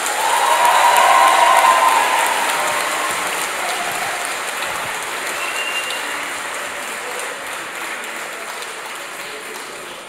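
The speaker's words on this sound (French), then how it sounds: "Applaudissez bien fort" A crowd at an evening graduation-style ceremony applauds loudly, a thick, hissing wash of clapping that peaks early and slowly fades.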